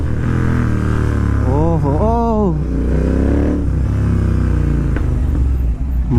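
A Royal Enfield GT 650 motorcycle, after repair of its clutch plates and third gear issue, runs loud and close, its engine rising and falling through several revs while someone talks over it.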